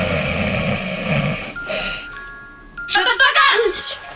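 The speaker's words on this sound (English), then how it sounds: "Yeah, well, you're fucking snoring." A person snores heavily and close in a bedroom at night, a droning rasp that fades, followed by bright chiming tones.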